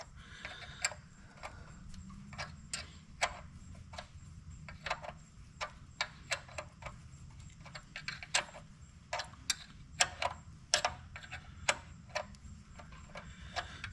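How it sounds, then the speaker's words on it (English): A 9/16 wrench turns a bolt on a David Brown 880 tractor, heard as a long run of small, sharp metallic clicks, steady at first and then coming faster and closer together. "that is done with a 9/16 wrench and a lot of turns"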